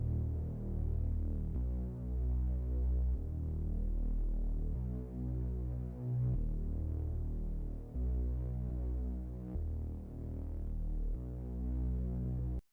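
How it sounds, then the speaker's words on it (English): A deep, throbbing synth bass pulses in steady sustained notes, changing pitch every second or so, loud and heavy with little else above it. "this is what the bass sounds like"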